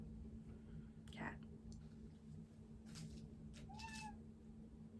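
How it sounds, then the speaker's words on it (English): A domestic cat meows a few times, short rising calls at close range over a quiet indoor background, with faint rustling between them. "Cat."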